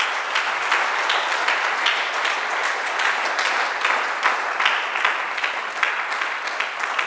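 A church congregation claps steadily, dense continuous applause filling the room with no voices above it.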